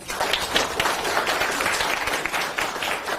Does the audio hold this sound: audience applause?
yes